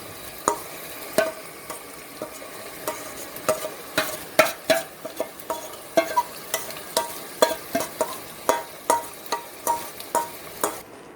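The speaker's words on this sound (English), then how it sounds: "Now you have to be patient and bhuno the masala." Masala sizzling in hot oil as it is fried and stirred for a meat and potato curry, with a steady hiss broken by regular spoon scrapes against the pan, close and fairly loud, with no talking.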